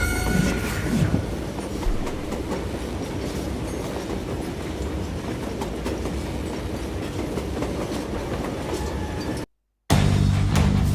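In the Western video game Call of Juarez: Gunslinger, a train rolls along with a continuous rumble and rhythmic clickety-clack of wheels, steady and close, and then cuts off abruptly near the end.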